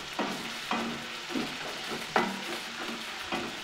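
Chopped onions with crushed ginger and garlic frying in a pan for chicken biryani, a steady low sizzle broken by several scraping stirs of a spatula, close and alone with no voices.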